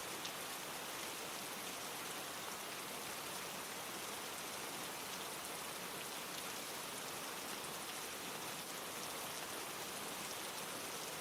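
Steady rain falls on a roof, a dense even hiss of drops that stays faint and unbroken throughout, with no voices.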